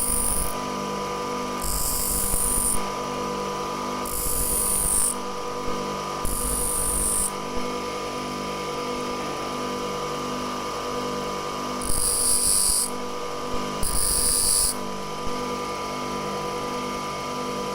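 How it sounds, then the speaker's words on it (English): A steady motorized grinder hums throughout, with repeated high-pitched grinding bursts as a twist drill bit is pressed against the wheel and rotated several times to sharpen it. "you need to rotate the drill bit while it's being ground"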